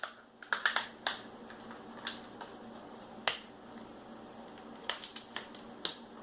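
A fingernail pries the plastic back case off a Moto G4 Play phone, making a scattered series of sharp, faint clicks and snaps at irregular intervals, close by and with no one talking.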